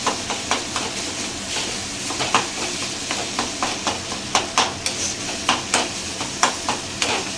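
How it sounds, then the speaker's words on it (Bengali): Boiled potatoes frying in onion, tomato and garlic masala over a low flame, a continuous soft sizzle broken by regular spatula scrapes and taps against the pan, close up and with no one talking. "আঁচ কমিয়ে একটু এটাকে ফ্রাই করবো"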